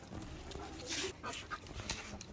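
A big dog pants close by in quick, breathy bursts, with a faint whimper mixed in against a low background.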